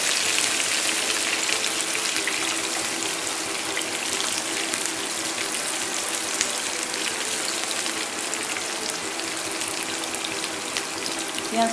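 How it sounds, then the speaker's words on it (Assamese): Chopped onions fry in hot oil for a dhaba-style okra dish, giving an even, hissing sizzle that holds steady and close from start to finish without talk. "প্ৰথমতে কাটি লোৱা পিঁয়াজখিনি তেলত দি অলপ ভাজিম।"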